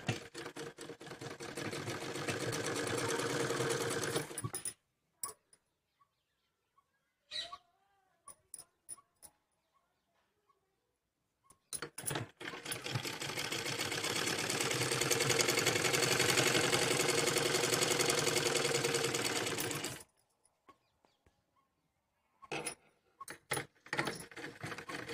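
Sewing machine stitching through Patiala salwar fabric layered with buckram, running in two long steady bursts of rapid mechanical whirring with a few short stitch bursts and quiet pauses between them.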